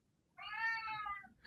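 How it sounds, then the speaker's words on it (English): A domestic cat meows once in a drawn-out, faint call from the background of a room, followed by the start of another sound. "I'm so sorry if anybody's hearing some background meowing from me"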